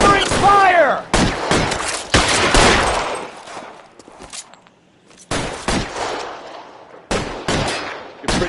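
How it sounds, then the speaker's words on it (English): Covering gunfire in the video game L.A. Noire, with close, loud bursts of shots at the start that come back in clusters later, separated by quieter gaps. A voice speaks briefly at the opening. "Covering fire!"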